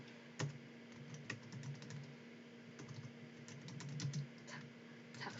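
Someone types text on a computer keyboard in a steady run of light, close clicks and keystrokes, with no one speaking.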